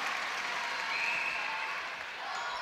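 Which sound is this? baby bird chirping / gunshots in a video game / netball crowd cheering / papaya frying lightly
netball crowd cheering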